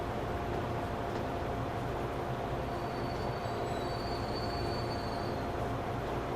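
A train from Transport Fever 2 picks up speed through a station, giving a steady, loud rumble of rolling wheels with faint high squeals near the middle, and no talk.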